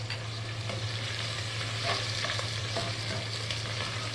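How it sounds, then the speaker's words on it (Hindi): Garlic, chilli and ginger sauté in a hot pan for an orange chicken dish, a steady close sizzle and crackle with a low hum beneath and faint stirring scrapes, no voices. "एक से 2 मिनट तक थोड़ा सा इनको हम सॉटे करेंगे।"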